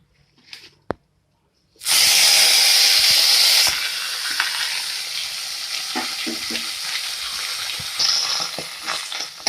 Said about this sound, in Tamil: இப்போ நம்ம இருக்கிற பேலன்ஸ் இருக்கிற எண்ணெயோட நம்மளோட மூலிகை எல்லாத்தையுமே சேர்த்துடலாம்.